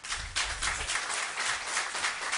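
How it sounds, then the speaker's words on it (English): Audience applause at a town selectmen meeting, steady dense clapping from a room full of people, moderately loud and continuous throughout. "please hold your applause"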